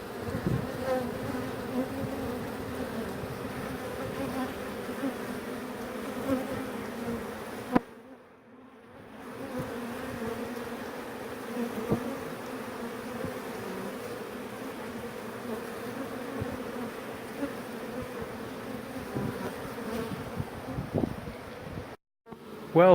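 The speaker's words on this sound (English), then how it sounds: "I don't know why they're dragging out so many dead bees." Bees swarm and buzz steadily around a hollow bee tree during a trap-out, a dense close drone with brief drops in level partway through.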